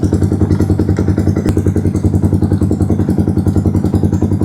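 A Yamaha Sniper 155 motorcycle engine, started for the first time after about four months unused, runs steadily with a loud, close, rhythmic low thrum and a faint mechanical clatter, with no talking.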